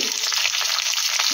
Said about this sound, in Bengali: তেল গরম হয়ে গেছে। এবার আমি এতে 5 ফোড়ন হিসাবে দিয়ে দিলাম